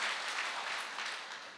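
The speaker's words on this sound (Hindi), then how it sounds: "एक जोरदार तालियां होनी चाहिए इस प्रोडक्ट के लिए।" Faint, steady applause from an audience at a health awareness program, a soft wash of many hands clapping without voices.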